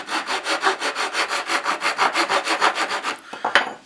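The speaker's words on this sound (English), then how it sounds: "So I'll just take the rasp side of a file and" The rasp side of a file scrapes back and forth on a wooden joint of a storage cabinet, making about twenty even, rhythmic strokes up close before a final knock and clatter, with no talking.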